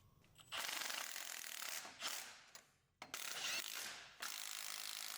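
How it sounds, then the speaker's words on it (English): Ratchet wrench tightening driveshaft flange bolts on a Ford Ranger, several quick rasping clicking bursts separated by short pauses, close and clear with no talking. "Thread the bolts in on both flanges, then tighten and torque all 8 bolts."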